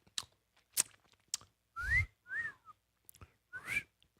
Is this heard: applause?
no